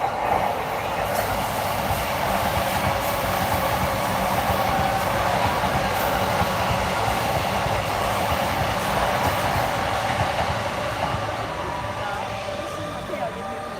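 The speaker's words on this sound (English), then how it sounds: "here you got the train going by." A Chuo Line train passing by in Tokyo during the end of cherry blossom season, a loud continuous rumble of rail cars rolling steadily past at close range for over ten seconds.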